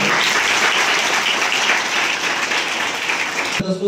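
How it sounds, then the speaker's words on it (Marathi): A school audience at a birthday lecture breaks into loud, sustained applause, many hands clapping in a dense wash that ends abruptly near the finish. "त्या व्याख्यानाबाबत आपण सर्वांनी तिला एकदा पुन्हा एकदा जोरदार टाळ्या करूया."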